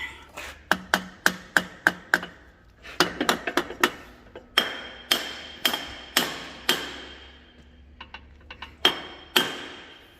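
A mallet hammers on a Dana 60 axle with an Eaton E-locker in a workshop, sharp ringing metallic strikes in quick bursts of several blows, loud and close with short pauses between series.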